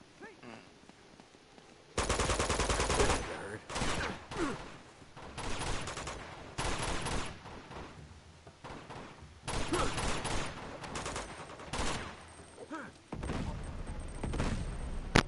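Rapid bursts of gunfire and blasts from a firefight in the Uncharted video game, with shotgun blasts and a grenade, coming in loud dense clusters separated by brief quieter gaps.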